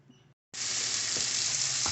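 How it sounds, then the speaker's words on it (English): Bacon-wrapped venison tenderloin frying bacon side down in a pan, a loud steady close-up sizzle that starts abruptly after a brief silence and holds, with faint pops. "we got them cooking up in a pan right now. I got the bacon side down"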